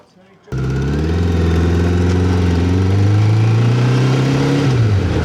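A Suzuki GSX600F motorcycle engine with a blowing header pipe gasket starts up abruptly and runs loud and close, a steady throbbing idle that rises slightly, then dips near the end.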